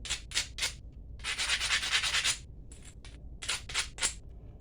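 Short, rapid bursts of gritty abrasive rubbing, up close, dulling the edges of a flint-knapped glass tile atlatl point: a few quick strokes, a longer steady scrape, then several more quick strokes.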